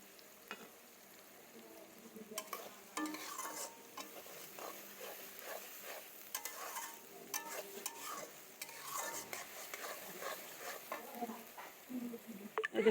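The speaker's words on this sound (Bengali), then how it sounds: "পেঁয়াজ ভাজতেছি" Onions fry in a wok for beef kacchi, a soft sizzle broken by frequent scraping stirs and light clatters of the spatula, fairly quiet and close.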